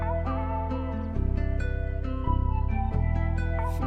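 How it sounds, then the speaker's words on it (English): A synthetic flute plays a short melody over sustained low tones, clean and close with steady phrasing and no voices. "so with the flute, the melody sounds like this"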